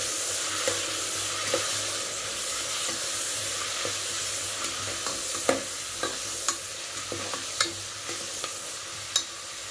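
Chopped onions and soaked dried peas fry in a pan with a continuous hissing sizzle, broken by scattered sharp pops and clicks of stirring that grow more frequent toward the end.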